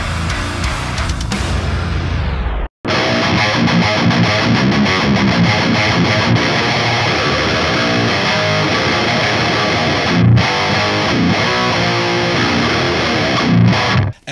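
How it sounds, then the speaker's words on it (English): Heavily distorted metal rhythm guitar through a 1992 Peavey 6505 amplifier chugs loudly and continuously with a grinding, raw tone and upper-mid bite, briefly cutting out near the start before resuming. "It has the typical raw type of distortion. It has that grindy upper mid bite."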